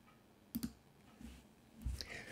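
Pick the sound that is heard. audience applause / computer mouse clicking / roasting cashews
computer mouse clicking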